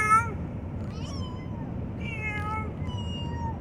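A person imitates a cat, giving several short, close meows in a playful back-and-forth with a small child, with no other talk.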